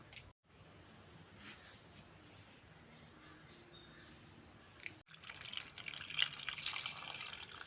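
Water runs steadily from a tap, with a louder, fuller rush of running water starting partway through as Malabar tamarind (kudampuli) is washed under it.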